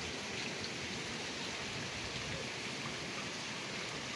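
Steady heavy typhoon rain with strong wind pours continuously, a dense hiss with a low rumble underneath, muffled as heard from inside a house.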